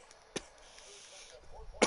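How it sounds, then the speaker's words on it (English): Two short sharp coughs, one early and one louder at the end, in an otherwise quiet room. "I'm coughing like a fucking smoker over here, man."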